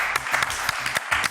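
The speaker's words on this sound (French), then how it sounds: "Merci Edith, que nous applaudissons très très fort" Brief burst of audience applause on a French TV news show, a short stretch of dense clapping that rises and dips with no talk over it.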